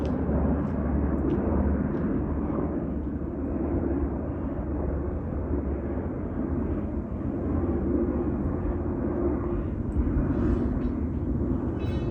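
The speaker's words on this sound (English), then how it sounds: "we can hear the engine of the Nighthawk helicopter." A heavy, continuous Nighthawk helicopter engine roar with a deep rumbling drone holds steady throughout, loud and close, with no voices.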